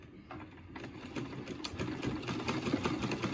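A sewing machine winds thread onto its bobbin, a steady, close mechanical whir that builds slightly in loudness and runs alone without talk.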